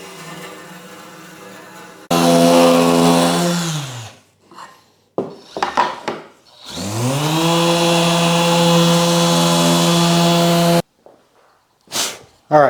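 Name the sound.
power sanding a wooden miter joint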